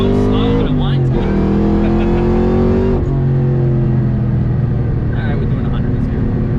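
A 2003 Ford Mustang Cobra with a Whipple 2.9 Gen 4 supercharger drives along, its engine droning loudly from inside the cabin, with revs climbing and dropping between shifts while people talk over it.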